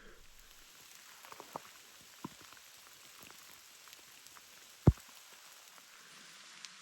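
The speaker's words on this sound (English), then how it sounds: "Again, it's raining." Steady rain patters at a backcountry camp, with scattered drips and one sharp close tap partway through; no voices.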